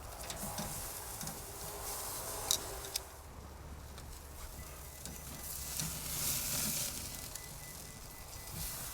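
Wagyu tri-tip sizzles and crackles over open flame on a Kamado Joe ceramic grill with the lid up, a steady close hiss with occasional sharper pops.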